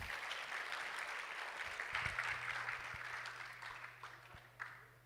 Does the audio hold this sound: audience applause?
yes